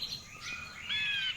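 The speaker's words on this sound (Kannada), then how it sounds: "ಪಕ್ಷಿಗಳು ಸದ್ದು ಮಾಡುತ್ತಾ ತನ್ನ ತನ್ನ ಗೂಡುಗಳಿಗೆ ಹಿಂದಿರುಗುತ್ತಿವೆ." Several forest birds chirp and call close by as they return to their nests, bright overlapping tweets and squawky notes with no other sound.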